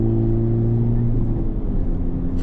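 A Honda Civic Type R FL5 drives along a road with a steady, low engine drone and tire hum. The sound is close and constant for a couple of seconds, with a faint voice over it.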